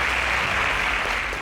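Steady audience applause for a third-place contestant at a Nigerian quiz show event, a dense continuous wash of clapping from a crowd that holds level throughout the short burst.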